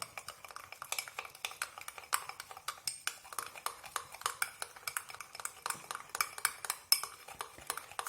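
A spoon stirring baking powder in a glass, rapid metallic clinks tapping against the sides in an uneven rhythm, close and fairly quiet, with no voices.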